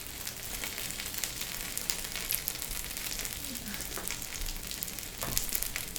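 A Korean seafood and scallion pancake fries in a hot pan, giving a steady, close crackling sizzle with small spits and pops throughout and no voices.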